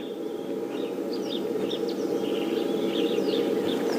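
A bright emerald green migratory bird calls far off from a safari road, faint chirping notes repeating over a steady rumble of a vehicle engine.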